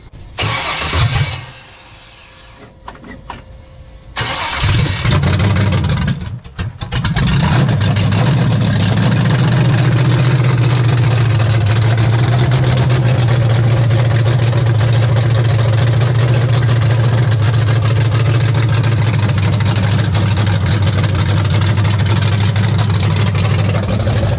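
A Chevy Nova with a swapped 350 engine cranks, catches and roars to life, then settles into a loud, steady running rumble close by for the rest of the clip.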